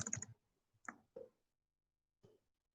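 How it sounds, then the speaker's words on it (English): Someone types on a computer keyboard in a quiet room: a few sparse, faint keystroke clicks, a quick cluster at first, then isolated taps spaced out with silence between. "I'm just typing this in."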